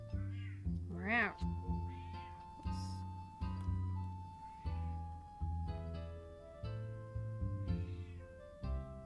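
A cat meows once with a loud rising and falling wavering cry, close up, while steady music with a thumping beat plays underneath.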